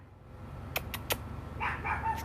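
A pet dog barks indoors in three sharp, separate yaps at moderate distance over a low background hum, followed by faint higher-pitched whining or yipping.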